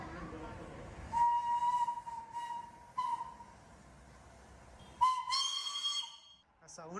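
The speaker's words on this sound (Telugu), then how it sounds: "Steam engine train." A steam engine train whistle sounds three times from some distance, each a clear sustained tone, the last blast the loudest and briefly rising, with people talking quietly in between.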